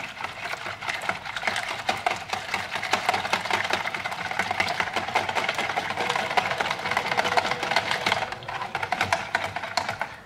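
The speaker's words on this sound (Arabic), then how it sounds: "غادي نديرو دابا البيض غادي نخلط مزيان" Eggs being whisked in a bowl for a pumpkin cake, a fast, steady clicking and tapping that keeps going for the whole stretch with no talking.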